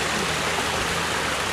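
Steady broadband rush of mountain water running downhill, loud and close, a continuous stream or cascade with no break and no voices across the short stretch.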